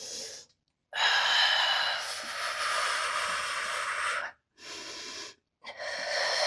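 Heavy, continuous diaphragmatic breathing during a workout exercise, made up of long, loud, rushing breaths close to the microphone, broken by brief silent pauses between exhalations.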